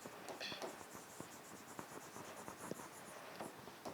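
A pen writing out a biology answer on paper: faint, close scratching strokes in quick irregular bursts, with small taps between them, continuing throughout.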